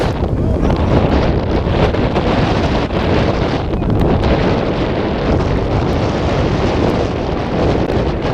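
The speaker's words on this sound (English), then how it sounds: "I don't think he's going to get very far with this wind" Strong wind buffets the microphone across a freshman high school football field, a loud continuous roaring rumble with gusty surges, steady throughout and covering everything else.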